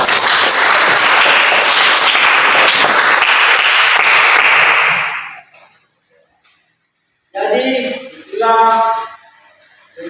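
Applause from a classroom of students during a Christian religious education lesson, a loud dense clapping wash lasting about five seconds before fading out, followed by brief speech.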